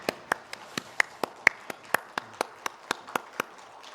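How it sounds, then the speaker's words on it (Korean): A congregation at a Korean Sunday worship service breaking into applause, heard here as a run of sharp, evenly spaced claps roughly every quarter second, crisp and fairly close. "하나님께 영광의 박수 함께 올려드리겠습니다"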